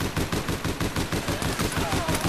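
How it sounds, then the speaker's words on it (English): Rapid bursts of gunfire in APB: Reloaded crackle continuously, loud and dense, like automatic weapons firing in quick repeated volleys. "I hear gunshots."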